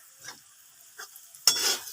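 Dried fish is added to onions frying in a pan and stirred, with two soft scrapes followed by a sudden bright burst of sizzling near the end.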